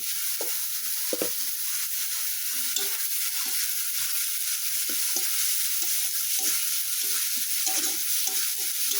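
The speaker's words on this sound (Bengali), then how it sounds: "পেঁয়াজ বাটা দিয়ে কিছুক্ষণ ভাজা নিছি। এখন এই যে সামান্য একটু রসুন বাটা দিব।" Onion paste and garlic paste frying for a Bengali fish curry, a steady close sizzle with repeated scrapes and stirring taps of a spatula throughout, no voices.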